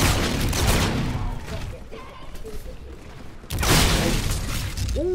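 Grenade blasts in Call of Duty: Infinite Warfare zombie mode, a loud burst of explosions at the start, then quieter clatter, then another strong blast near the end.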